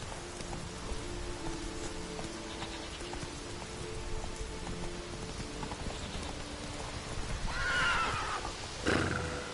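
Roach the horse from the video game Witcher 3 lets out a whinny near the end, over galloping hoofbeats and rain, with a steady game soundtrack underneath and no talking.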